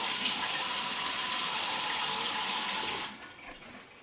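Water runs steadily from a bathroom tap over a hand, a continuous close hiss that cuts off sharply near the end, leaving a quieter drip and trickle.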